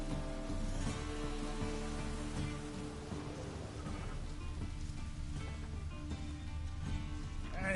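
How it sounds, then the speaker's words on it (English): Steady rain falling in The Witcher video game, a continuous dense patter on surfaces under a low rumbling game ambience, with no speech over it. "And it's raining again."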